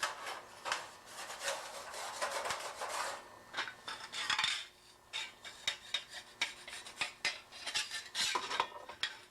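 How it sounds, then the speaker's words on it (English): Sheet copper is scrubbed with steel wool, giving a close, steady run of harsh rasping strokes in uneven bursts, some louder and some softer, with no talk. "We prepare the surfaces that will receive solder by cleaning them with steel wool."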